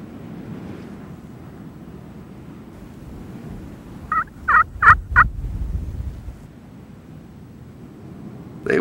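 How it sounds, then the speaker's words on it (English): Wild turkeys gobble in spring woods, a burst of four loud rattling gobbles in quick succession standing out over a quiet outdoor background, with another gobble starting at the end. "The majority of the gobblers showed little interest in coming to the call."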